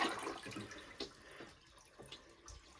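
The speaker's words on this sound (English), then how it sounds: "Then flush the toilet. Be sure to hold the handle down to get all the water out" A Glacier Bay Power Flush toilet flushed with its handle held down during a toilet replacement gives a soft, steady rush and gurgle of water that slowly tapers off, with no talk.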